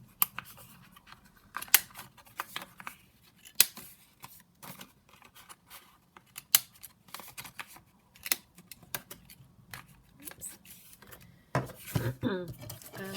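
Scissors round the corners of paper and cut out pieces for craft pockets and tuck spots, giving close, crisp snips in an uneven run with short pauses between cuts.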